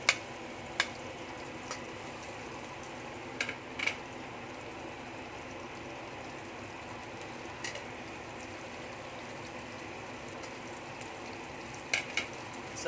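Garlic sizzles faintly in melted butter in a pan, a soft steady frying hiss broken by a few sharp clicks and utensil taps.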